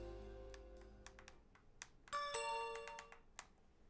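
A multi-tone arrival chime from an elevator in the game Trails of Cold Steel rings out clearly as a sustained bright cluster of notes, over scattered soft clicks and a low hum.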